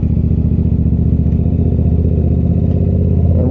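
Yamaha R7 sport motorcycle engine revving steadily under acceleration, a loud, close, continuous mid-pitched drone with a brief rise near the end as a gear change begins, no voices over it.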